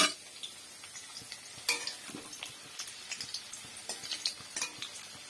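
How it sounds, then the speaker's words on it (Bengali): Potato pieces, one potato cut into four, frying in a pan, with a soft continuous sizzle and scattered light clinks and scrapes of stirring, close and fairly quiet, no talk. "তো লাল লাল করে ভেজে নিই।"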